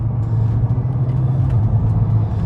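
A turbocharged VW Golf R32 engine with new Golf R clutch packs hums and rumbles steadily at close range, its low drone shifting slightly in pitch as it downshifts in manual mode.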